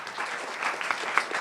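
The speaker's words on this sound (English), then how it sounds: "give them a big round of applause" Brief burst of applause from a university panel audience, dense clapping with a few sharper, closer claps standing out, heard alone without speech.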